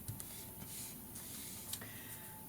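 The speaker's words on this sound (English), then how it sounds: "I want to sew around it and I don't want to go over the sticker." A sewing machine stitches around a sticker on a handmade nature-themed paper booklet, giving a faint, steady mechanical whir with small ticks and no talking.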